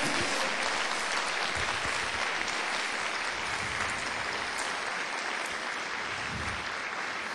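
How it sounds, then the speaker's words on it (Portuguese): A church congregation applauds in a steady, continuous wash of clapping that holds at an even level throughout, distant and slightly muffled. "Dê um aplauso ao Senhor aí, vai."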